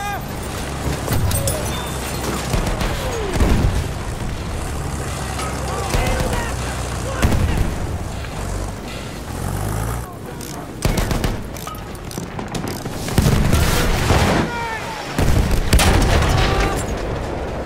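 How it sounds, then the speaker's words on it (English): Gunfire and explosions from a military video game battle, with bursts of automatic fire and booms scattered throughout under frequent game voice callouts. "Machine gun, right there!"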